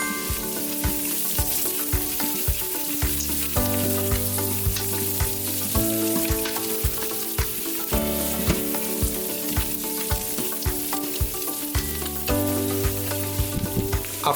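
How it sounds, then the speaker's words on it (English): Ginger and aromatics sautéing in an Instant Pot for Indonesian oxtail soup, a steady close sizzle of frying with regular scraping stirs throughout, heard under quiet background music and no talking. "Saute for about 30 seconds or until it became fragrant."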